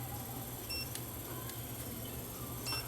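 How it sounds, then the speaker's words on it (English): A Tesmen TN213 AC voltage detector gives short high-pitched electronic beeps, repeating faintly over a low steady hum. "When I bring this near a live energized wire, it should start to beep."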